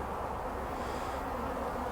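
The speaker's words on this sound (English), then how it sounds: "We've got a wasp now trying to muscle in" Steady insect buzzing at an autumn honeybee colony in a poly hive, a wasp trying to get in among the bees; a dense, continuous hum held close and unbroken throughout.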